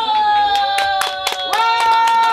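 An audience claps at an outdoor stage performance in Songhae Park, Daegu, with scattered sharp handclaps in an uneven rhythm over sustained musical tones.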